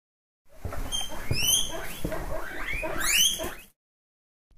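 A guinea pig squeaks and chatters close by, with rapid high chirps and rising whistles in a steady busy stream, louder near the end, with no other sounds.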